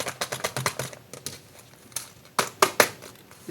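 Decoupage paper napkin crinkled and crumpled by hand, a quick run of dry crackling bursts, then a pause and a few louder, sharper crinkles close by, with no talking.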